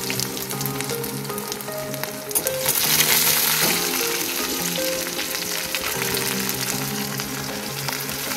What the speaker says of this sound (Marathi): तेल गरम झालं, आता लसूण टाकले